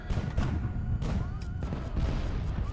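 Explosions and heavy gunfire in the naval war game Highfleet, with an ammunition blast aboard an enemy ship. Dense, continuous rumbling booms and crackling impacts overlap for the whole stretch, with sharper blasts standing out near the start and middle.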